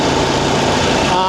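A Voge DSX 900 motorcycle engine pulls steadily in fifth gear above 3,000 rpm while riding on Pirelli tyres, giving a loud, close, continuous drone with wind noise.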